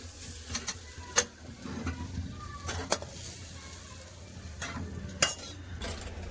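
Spiced pea filling is stirred and fried in a hot kadai, a low steady sizzle broken by sharp metallic scrapes and taps of the spatula against the pan.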